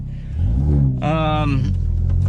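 A 2019 Hyundai Veloster N engine drones steadily from inside the cabin, then revs up sharply with a rising harmonic whine before settling back to a loud hum.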